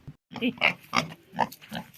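Vietnamese piglets grunt in short, close bursts, about five snorty oinks in quick uneven succession.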